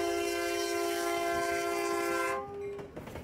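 Nebraska Central Railroad freight train on the Bellwood subdivision near David City, its loud, sustained multi-tone horn blaring steadily for over two seconds before cutting off, leaving rail rumble behind.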